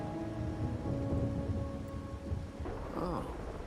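Steady rain patters and hisses in a Wuthering Waves game scene, with a low thunder rumble swelling near the end; no voices over it.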